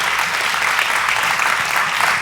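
A crowd at a question-and-answer event applauds steadily and loudly, a dense wash of many hands clapping throughout with no pauses or voices rising above it.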